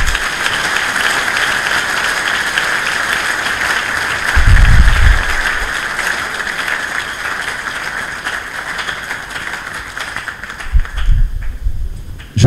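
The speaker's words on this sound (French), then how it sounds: "il entend ces applaudissements" Audience at the University of Kinshasa applauding in a dense, sustained wash of clapping that runs steadily for most of the stretch, with a few low thumps, then thins and fades near the end.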